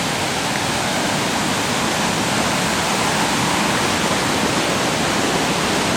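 The Kaya River on the 2009 Chilkoot Trail rushes in a dense, unbroken wash of flowing water, loud and close, with no voices.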